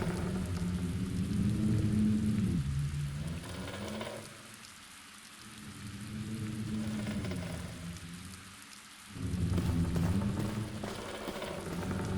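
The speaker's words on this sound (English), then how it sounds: "The hole in the window lets cold wind and rain enter the room." Steady rain pours and wind rushes through a broken window in a room in the Black Mirror game, a constant close hiss under low, swelling gusts that fade and return.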